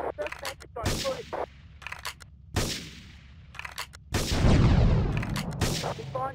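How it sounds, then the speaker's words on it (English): Gunfire and explosions ring out in GTA 3 Definitive Edition, with sharp broadband bursts and a heavy blast around the midpoint, close and loud, interleaved with radio-style speech. "investigate reports of gunfire and explosions"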